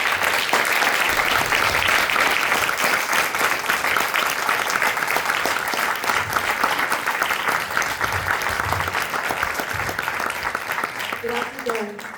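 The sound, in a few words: warm round of applause at book launch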